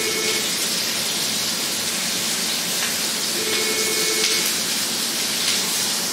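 Pork wrapped in parma ham sears in a hot pan with a loud, steady, dense sizzle and hiss that carries on unbroken, and no voices over it.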